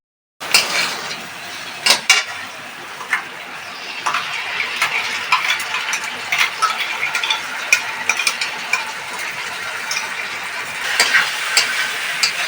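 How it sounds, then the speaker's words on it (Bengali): White sesame and tomato paste are stir-fried in a pan, with repeated scraping and clinking of a spatula against the metal over a low sizzle, the strokes coming in irregular bursts. "না না, জল দেবো না, এখন ওই সাদা তিল টমেটো বাটাটাও দেবো।"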